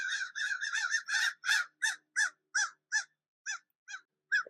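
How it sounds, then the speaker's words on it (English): Crows cawing outdoors, a rapid run of loud harsh caws that slows into a series of evenly spaced single calls, close and clear with nothing else heard. "the birds are very loud today."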